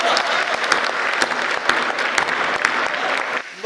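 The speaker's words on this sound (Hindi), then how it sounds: "आप लोगों को तालियां बजानी ही होगी।" At a Hindi poetry gathering, an audience claps loudly and steadily for a few seconds, with sharp individual claps standing out from the crowd before it stops abruptly near the end.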